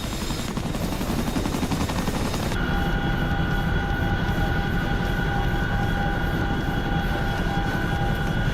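A Chinook helicopter in a video game flies with a loud, steady rotor roar that fills the whole stretch, partly overlaid by a high whine, and no voices are heard.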